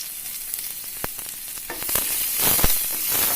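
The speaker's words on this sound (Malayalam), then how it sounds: "എണ്ണ നല്ലപോലെ ചൂടായിട്ടുണ്ട്. നിറച്ച് വെച്ച പച്ചമുളക് ഇട്ട് കൊടുക്കുക." Stuffed green chillies sizzle loudly in hot oil, with curry leaves and onion joining the pan. A steady, close crackle of frying swells toward the end, with sharp pops along the way.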